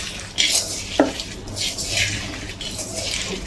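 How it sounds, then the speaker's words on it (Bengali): Onion is worked with salt by hand in a bowl, giving soft wet squelching and a few sharp clinks against the dish, near and moderately loud. "পেঁয়াজটা মেখে নেব"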